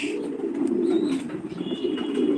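Low, soft cooing from Danish pigeons at a pigeon farm continues steadily throughout, close by, with a faint high chirp now and then.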